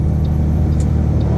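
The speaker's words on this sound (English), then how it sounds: "if you hear that loud roaring in the background, it's just my fan" A truck cab fan roars loudly while the truck is driving, a constant low droning rumble that fills the cab without pause.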